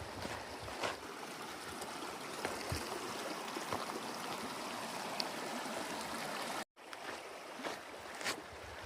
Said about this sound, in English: The creek just snakes its way along this valley